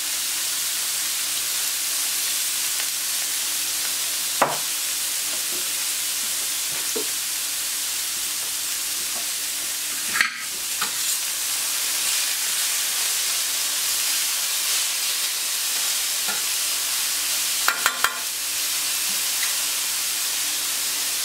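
Rice with shiitake mushrooms and sesame seeds sizzles steadily in hot oil, a continuous frying hiss with a few sharp clicks of a utensil against the pan and no talking.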